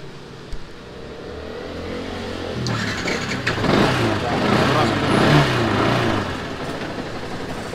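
A Yamaha R15 motorcycle that keeps stalling is switched off and then started again: a quiet stretch, a sharp knock, then the starter cranks and the engine catches into a steady, moderately loud running note, with a voice speaking alongside.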